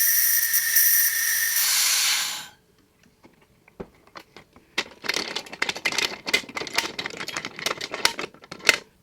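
Air released from a resin pressure pot: a loud, steady hiss for about two and a half seconds that cuts off abruptly, followed by scattered clicks and clattering knocks as the lid is handled.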